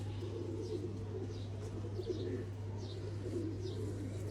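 Teddy pigeons cooing softly, several low, rolling coos repeating every second or so over a steady electrical hum and quiet background murmur, fairly faint and with no talking.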